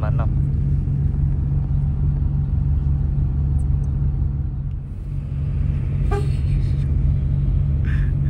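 A front-engined sleeper bus climbs an extreme mountain road uphill at about 20 km/h, its engine a loud, steady low rumble and drone that dips briefly midway, with a few faint higher noises from the road.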